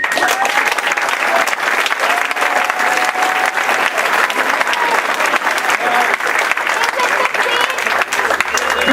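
Audience applause at a 15 Now minimum wage meeting with Kshama Sawant, loud dense clapping that holds steady for the whole stretch, with some voices and cheers mixed in.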